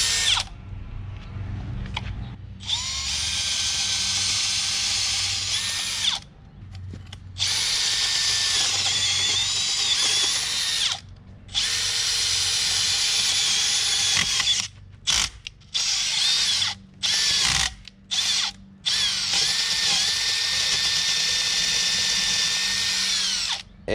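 A power drill set for more torque and less speed, fitted with a secondary handle and used for weeding, whines loudly and steadily in long runs, broken by several short stops and restarts, with no voices.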